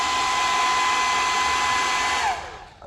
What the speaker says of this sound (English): blow dryer works miracles